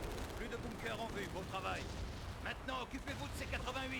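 Cannon fire in the World War II strategy game Company of Heroes rumbles as a steady, dense barrage of booming blasts, with someone talking continuously over it.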